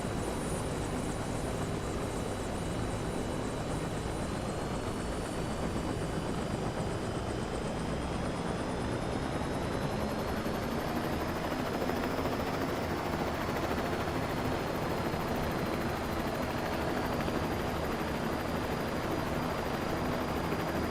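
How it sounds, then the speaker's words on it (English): A helicopter engine in Microsoft Flight Simulator drones steadily throughout, a dense roaring whine with a high turbine pitch that slowly shifts upward, loud and unbroken. "Everything's so loud in this helicopter, man."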